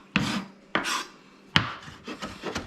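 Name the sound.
chopping lemon zest with a knife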